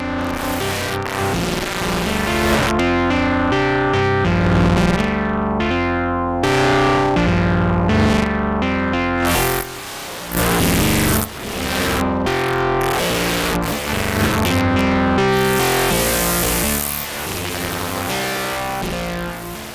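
A Fairfield Circuitry Roger That effects pedal produces heavily distorted, noisy tones with shifting glitchy textures, loud and continuous, with a couple of brief dropouts.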